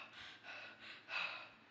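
Someone imitates gasping for breath as if after a long jog, four quick audible breaths in a row, the last one sharper and louder, close and quiet.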